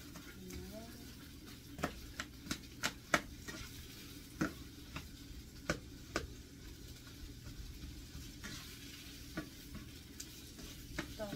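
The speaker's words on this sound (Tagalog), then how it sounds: "Sama-sama na natin lahat yan. Lakas-lakasan muna natin." Dried fish (bulad) is stirred and fried in a pan with a steady, close sizzle, punctuated by repeated sharp spatula scrapes and clicks against the pan.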